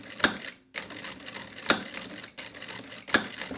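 Industrial sewing machine (Jack F4 or Juki style) fitted with a ruffler presser foot, running slowly in close-up: sharp mechanical clacks roughly every 1.5 seconds over a light whir, with brief pauses between.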